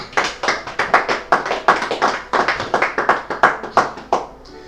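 A church congregation claps in acclamation at a baptism service, a loud, fairly regular rhythm of unison hand claps close by that runs throughout and stops abruptly near the end.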